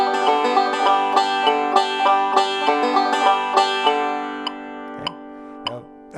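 Banjo picked in a steady run of eighth notes with ringing harmonic tones, loud and close, in cut time against a metronome, then trailing off to a few sparse plucks.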